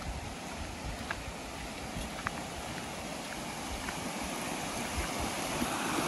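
River water flows steadily in a fishing village setting, a continuous broadband rush with soft splashes and light wind buffeting, heard close and alone without talk.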